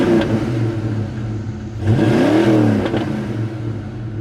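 A 1988 Ford Mustang GT Foxbody V8 on Flowmaster dual exhaust, idling with a deep burble, then blipped into one sharp rev that swells and falls back before a smaller second blip, close and loud.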